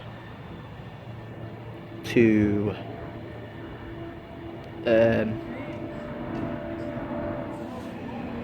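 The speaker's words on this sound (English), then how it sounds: "just arriving in is the 1417 Virgin train service" Virgin train service, Class 390 Pendolino 390107, pulling into Stockport station on the West Coast Main Line, a steady low rumble with two loud squealing brake screeches, people talking on the platform.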